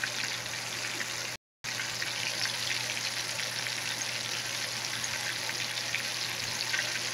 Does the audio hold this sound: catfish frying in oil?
yes